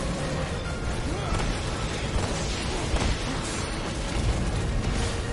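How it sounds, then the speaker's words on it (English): Muffled explosions and bursts boom continuously through a dense, noisy battle in the video game Final Fantasy XV, with broad rumbling impacts layered under constant game action. "Oh, lots of explosions."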